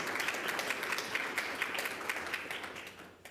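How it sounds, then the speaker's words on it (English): Audience applauding a guest speaker at a university lecture event, brisk scattered clapping with distinct individual hand claps, steady and fairly near before fading out at the end. "Ladies and gentlemen, a nice warm round of applause for Muhammad Abdul Dayem."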